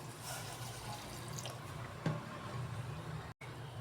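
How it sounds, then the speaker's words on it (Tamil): Water streams steadily into a cooker with a continuous pouring rush and faint dripping, close by, with no voices. "தேவையான தண்ணி ஆட் பண்ணுறோம்"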